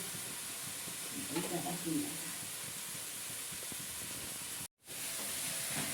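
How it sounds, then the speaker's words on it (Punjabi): Tadka tempering sizzles over a vegetable dish in a home kitchen, a steady, quiet hiss that runs throughout with a brief dropout near the end and faint voices in the background. "ਲੱਗ ਗਿਆ ਸਾਡੀ ਸਬਜ਼ੀ ਨੂੰ ਤੜਕਾ"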